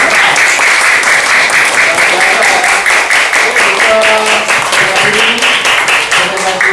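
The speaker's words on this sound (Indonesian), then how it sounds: "beri tepuk tangan dulu untuk" A classroom applauds a group presentation with loud, steady clapping from many hands, close and continuous throughout, while a few voices murmur beneath it.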